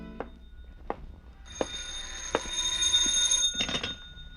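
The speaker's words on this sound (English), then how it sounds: "a phone ringing that came from the phone" Old-time radio mystery drama in a big-city setting, with a telephone ringing: repeated short electronic trills in rhythmic bursts, clear and fairly near, with no voices.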